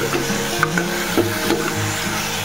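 Chicken pieces with a little ground black pepper stir-fried in oil, a continuous close sizzle broken by several scraping stirs of a spatula against the pan.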